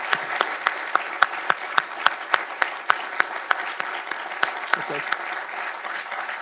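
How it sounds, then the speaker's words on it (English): An audience at a national security event applauds an ambassador, with steady, moderately loud clapping of many hands and a few sharp, distinct claps standing out, continuing evenly throughout without talk. "I'd like to ask all of you now to give a round of applause to Ambassador."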